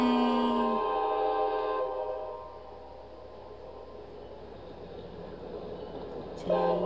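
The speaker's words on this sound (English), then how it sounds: "Here comes the wild animal train." A train sound effect from a children's animal-names lesson, a steady rumbling rolling past at even loudness, easing off midway and then swelling again, with a short sharp burst at the very end.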